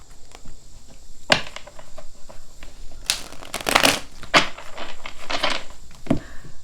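Tarot cards shuffled by hand in short, crisp riffling bursts and soft slaps, close and fairly quiet, with pauses between shuffles and a faint steady hiss behind.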